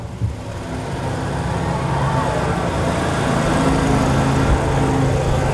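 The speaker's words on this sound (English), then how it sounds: "Who needs Shriners when you got the lawnmowers like that?" Lawn mowers driving in a small-town Frontier Days parade, their engines making a steady, continuous drone amid street noise and crowd murmur, with people talking nearby.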